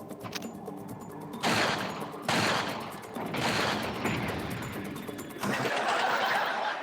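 Bursts of gunshots at targets in the video game Resident Evil 4 VR, coming in several loud clusters of rapid shots separated by brief quieter gaps.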